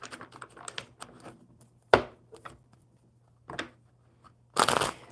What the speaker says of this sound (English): Let's get these tarot shuffled up for you.